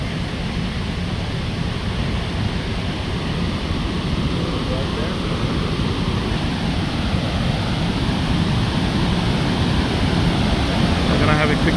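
Victoria Falls in Zambia pours down rock steps with rising spray, a dense continuous roar of falling water filling the whole stretch, loud and close, with a faint voice beneath it.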